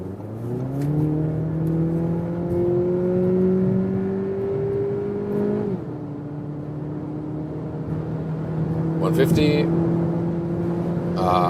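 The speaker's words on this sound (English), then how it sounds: "So let me do one more acceleration here when we're already at speed." A compact SUV accelerates hard while already at speed on the road. A loud, steady engine drone climbs in pitch, drops briefly at a gear change and then keeps pulling under continuous road and wind noise.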